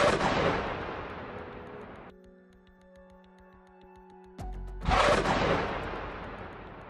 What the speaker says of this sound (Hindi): कैसे एक लड़ाका हरियाली के बीच रॉकेटों को दागने के लिए स्टैंड तैयार करता है और फिर उन रॉकेटों को फायर कर देता है